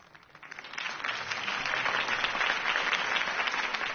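Rally crowd in a Telltale Batman game applauds a campaign speech for Harvey Dent, clapping swelling from quiet to a full, sustained roar of applause.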